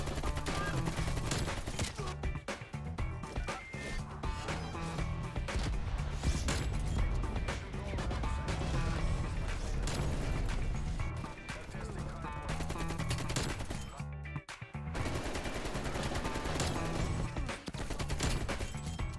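Automatic AK rifle fire in the video game Black Ops Cold War, loud and near-continuous bursts over dense game sound with explosions and chaos throughout.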